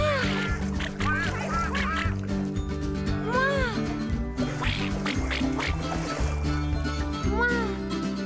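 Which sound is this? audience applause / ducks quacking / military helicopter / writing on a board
ducks quacking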